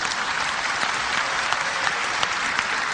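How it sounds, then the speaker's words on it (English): An audience claps during a talk comparing Jesus and Adam in a religious debate, steady mid-level applause with scattered sharper claps standing out, no voices over it. "MashaAllah, you're clapping."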